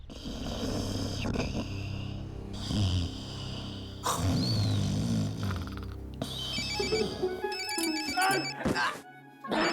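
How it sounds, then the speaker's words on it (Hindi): A mobile phone rings with a bright electronic ringtone, its chirping musical tones rising over the second half amid a busy, dramatic background. "तेरा फोन बज रहा है"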